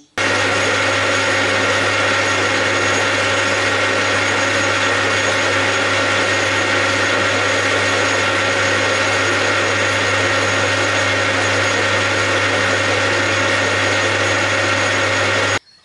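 Machine cuts a taper on an adaptor part, a loud, steady droning whir with a constant hum that runs unbroken, starting and stopping abruptly, with no voices.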